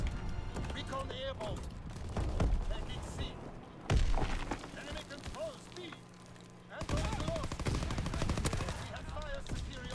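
Rapid shotgun blasts and gunfire in a Call of Duty WW2 Domination match, loud bursts scattered across the clip amid game effects and voices.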